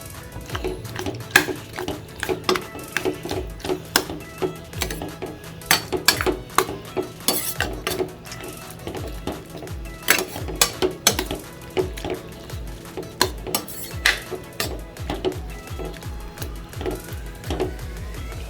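Cooked dal being added to capsicum kootu in a pot, with repeated metallic clinks and scrapes of a spoon against the vessel in an irregular rhythm, close and with no voices.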